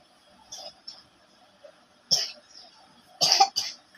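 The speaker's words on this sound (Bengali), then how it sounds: "আমার কাশি রে" A few sharp coughs from a person selling three-piece dresses at a wholesale market, including a single burst and then a louder double cough close to the mic, separated by quiet pauses with no talking.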